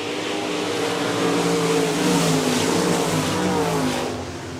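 IMCA RaceSaver sprint cars racing on the dirt oval at Park Jefferson Speedway, a loud, steady roar of several engines held at high revs, swelling slightly as the pack passes and easing off near the end.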